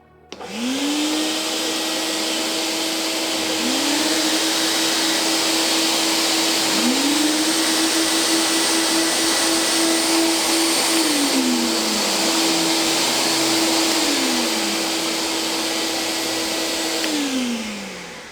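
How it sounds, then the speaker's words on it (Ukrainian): A Procraft VP3000 industrial vacuum cleaner's motors whine up one after another in three stepped starts, run together as a loud steady roar, then wind down in stages with falling pitch, with no voices. "Після того, як ми прослухали звук пилососа, ми вирішили розглянути його внутрішню структуру та продемонструвати, як насправді працює наш промисловий пилосос."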